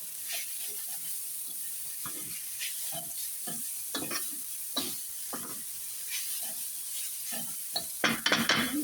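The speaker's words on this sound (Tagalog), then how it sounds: "Mikos-mikos ulit." Food sizzling and frying in a pan with bean sprouts and garlic, while a utensil stirs it in repeated scraping strokes and clinks against the pan, steady hiss underneath.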